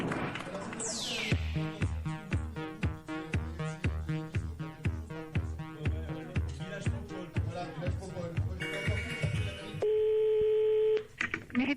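A telephone being dialed for a prank call on an 80s-themed French radio show, with a run of rhythmic dialing tones followed by steady line tones, loud and close, with brief voices at the start.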